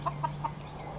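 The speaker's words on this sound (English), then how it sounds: "There's some baby chicks." Mother hen with baby chicks, three quick soft clucks in a row near the mic, then fainter murmuring clucks trailing off.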